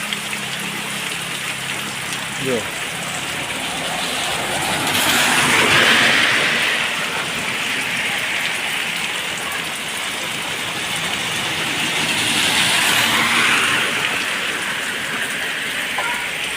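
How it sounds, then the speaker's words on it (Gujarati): Steady winter rain falls in Gujarat, a broad continuous hiss that swells louder twice, with faint traffic or passing vehicle noise underneath and no talking. "શિયાળામાં વરસાદ પડ્યો છે"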